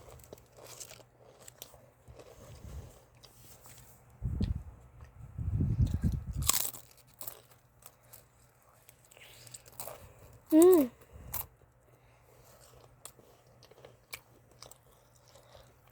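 Someone bites and chews crunchy food up close in several loud crunching bursts, with quiet speech and small mouth sounds in between.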